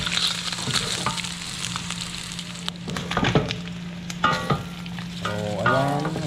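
Garlic sizzles in a pan with steady crackle and sharp spoon scrapes, a few louder stirring knocks toward the end.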